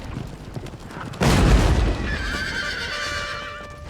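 Cavalry horses whinny loudly in a battle in the game Empire: Total War, as a booming gunfire blast cuts in and a long, wavering neigh follows close up.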